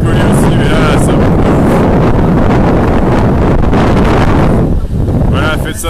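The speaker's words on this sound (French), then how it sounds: "je sais pour le vent" Heavy wind buffets an outdoor microphone at an activist demonstration in Paris, a loud continuous roar and rumble with people talking faintly underneath.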